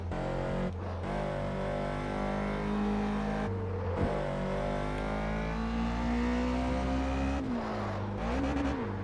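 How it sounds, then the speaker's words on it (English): A car engine in the racing game Test Drive Unlimited 2 revs hard through repeated climbs and gear shifts, its loud, steady whine broken by brief drops about every few seconds. "It sounds like they ripped this car audio from Project Torque."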